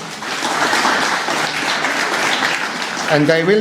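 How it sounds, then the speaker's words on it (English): An audience at a Reconciliation Week multicultural event applauds a choir, sustained clapping at a steady level, with a voice rising over it in the last half second. "could we have a round of applause and welcome"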